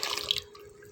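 A small amount of water is poured onto besan stuck to the bottom of a cooking pot while making kadhi pakora: a brief close splash that fades to a quiet trickle.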